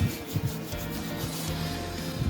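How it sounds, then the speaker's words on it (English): Dry, gritty rubbing of hands grinding dried glue off the skin, a close, continuous scrubbing texture with a few soft bumps, no voices. "You rub the glue into your hands, and then you just grind it off"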